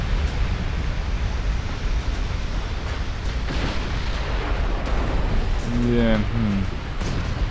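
Heavy naval gunfire from battleships in the Ultimate Admiral Dreadnoughts naval warfare game, a dense continuous rumble of booming shots and explosions, with brief speech partly over it.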